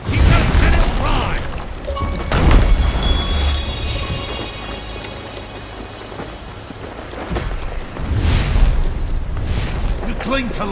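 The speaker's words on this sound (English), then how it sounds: "Keep those cannons dry!" Deep booming ship cannon blasts and rumbling mechanical clatter roll through, loud and dense, with shouting voices over the naval battle noise in the video game Sea of Thieves.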